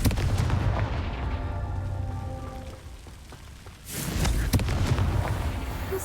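A Confringo spell explosion in the Hogwarts Legacy video game: a loud rumbling blast with crackling debris, a lull, then a second heavy burst of crackle and rumble under the game's ambient noise.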